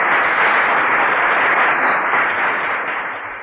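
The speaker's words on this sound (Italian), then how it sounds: "Facciamo un bel applauso al signor Ciccio da Catania" A studio audience on an Italian television quiz show applauds the reigning champion, a contestant from Catania. Steady, close clapping fills the whole moment and tapers off slightly at the end, with no talking.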